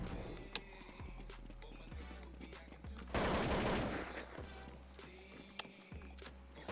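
Gunfire from a scout sniper rifle in the video game Counter-Strike 1.6, with sharp shots over a busy game soundscape and a burst of loud noise midway.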